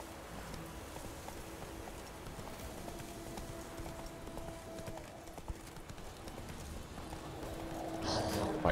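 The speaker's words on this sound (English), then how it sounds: "I need my horse back." Horse hooves clip-clop steadily in The Witcher 3 video game, a rhythmic gait under soft ambient game sound, with a brief louder burst near the end.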